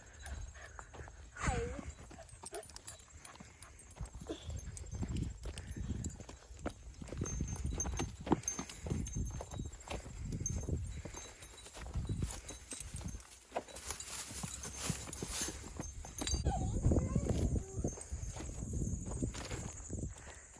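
Hooves clop slowly on the ground as horses walk during grooming, with a halter dragging, scattered rustling and handling noises, and people talking quietly now and then.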